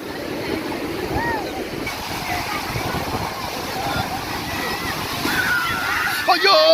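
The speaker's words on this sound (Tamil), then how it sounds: "மேலே வரைக்கும் தண்ணி வந்துட்டு இந்த தடவை அலை ரொம்ப ஓவரா வஞ்சிச்சிருச்சு" Sea waves at Varkala beach wash and slosh up the sand in a continuous, fairly loud surge, with a voice talking faintly over the water.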